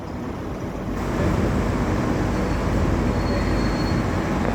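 Melbourne Metro suburban train passing close by, a broad steady rumble and rush of wheels on rail that swells after the first second and holds loud throughout, with no talking.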